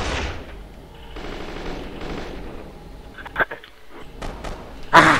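Bursts of gunfire in the video game Kane and Lynch 2, a rapid machine-gun rattle early on, then sparse sharp shots and a loud final burst, with faint talking between.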